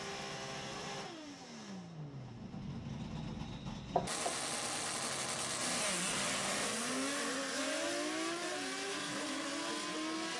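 Opala cars at a drag strip roar past, engine notes sweeping down then climbing again in loud, continuous revving with a sharp spike midway, close and without talk.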